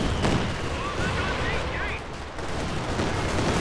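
Katyusha rocket artillery fires in a Company of Heroes 2 4v4 battle, a dense burst of whooshing launches and booming blasts layered over distant gunfire and explosions, with game voices mixed underneath.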